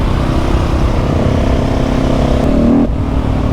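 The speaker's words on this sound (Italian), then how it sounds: "Tuona di brutto, mi sentono arrivare 3 km prima." A KTM 690 SMC R supermoto's single-cylinder engine idles with a loud, steady, close rumble, then blips briefly before dropping back, heard alone outdoors.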